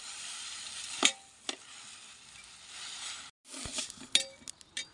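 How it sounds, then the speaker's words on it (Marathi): Sesame seeds dry-roast in a pan without oil, giving a faint, soft rustling hiss broken by a few sharp clinks and scrapes of a spoon stirring against the metal. "तीळ पण तसेच बिना तेलाचे भाजायचे."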